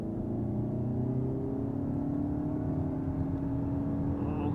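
A 2025 Toyota Camry front-drive hybrid pulls hard at full throttle in sport mode, heard from inside the cabin as a steady, loud engine drone with a rising tone that climbs continuously without a break.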